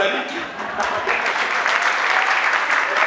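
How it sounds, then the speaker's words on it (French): An audience at a French-language church broadcast applauds with dense, sustained clapping that swells slightly, with a voice faintly audible at the start. "Applaudissez, mesdames et messieurs."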